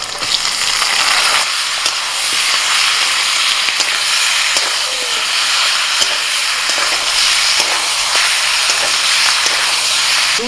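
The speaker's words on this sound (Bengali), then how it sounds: "পেঁয়াজটা অর্ধেক ভাজা করে নিয়ে এবার আমি ম্যারিনেট করা চিকেনটা দিয়ে দিচ্ছি।" Marinated chicken sizzles with half-fried onions in hot oil, a dense, continuous close-up crackle with occasional spoon scrapes and stirring clatter throughout, no talking.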